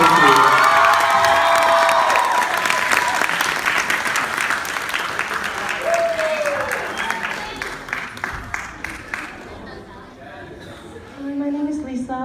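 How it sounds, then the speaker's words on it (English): Loud applause and cheering from a crowd at a 2017 student organization event, with whoops and shouts over dense clapping that gradually thins into scattered claps and chatter before rising again. "So please give her the grandest of applause."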